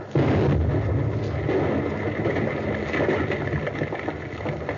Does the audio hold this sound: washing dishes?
no